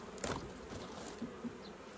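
Honey bees buzz faintly around a hive during frame handling, with a few louder passes close by over a low, steady hum.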